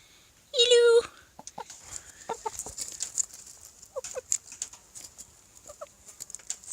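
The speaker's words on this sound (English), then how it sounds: "Hello, chicken, chicken, chicken." Chickens at a nature centre farm in Quebec give scattered soft clucks after a sharp squawk, close and intermittent over a quiet background.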